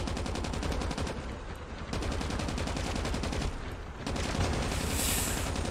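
Rapid automatic gunfire from Call of Duty Mobile Zombies during a boss fight rattles in dense, continuous bursts with brief pauses, loud and close, each shot tightly spaced in a steady machine-gun rhythm.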